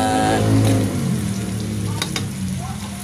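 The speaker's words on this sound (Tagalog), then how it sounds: "pinagmamantika muna natin siya bago natin siya lagyan ng dugo" Pork offal frying in oil in a pan for dinuguan, with a steady close sizzle that fades slightly after the first second, along with a brief stirring clatter and a voice speaking over it.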